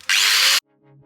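A power tool bites into the rusted steel inner sill of a Porsche 928 in one loud, harsh half-second burst, then stops abruptly and leaves a faint winding-down hum.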